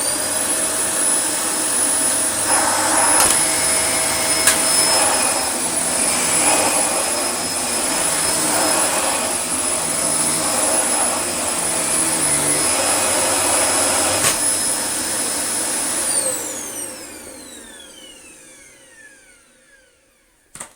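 A Dyson DC24 vacuum cleaner runs with a loud, steady high-pitched whine and airy roar for about sixteen seconds, then is switched off and its motor winds down into silence, ending in a small click.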